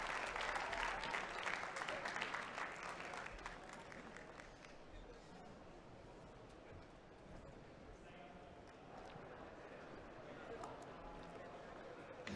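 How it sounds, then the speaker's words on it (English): An audience at the World Barista Championship 2021 semifinals applauds barista Mikael Jasin, a strong burst of clapping that fades after a few seconds into quieter room sound with people talking. "big round of applause for Mikael"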